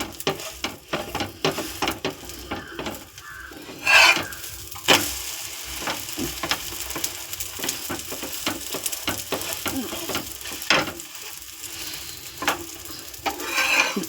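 A vegetable omelette with cabbage cooks in a pan over a low flame, a soft continuous sizzle broken by scraping and tapping as a spatula stirs and turns it, with a few sharper knocks.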